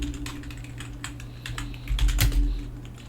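Typing on a computer keyboard during a dev stream: quick, irregular clicks of keys close by, with a heavier burst of strokes midway, over a low steady hum.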